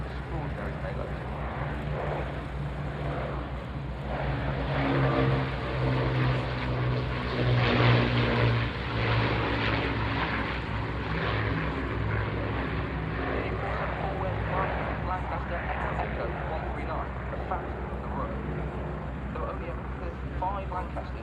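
An Avro Lancaster four-engine propeller heavy bomber flies at an air show, its engines a deep droning rumble with a throbbing low tone that swells to a peak midway and then holds, heard under ongoing commentary.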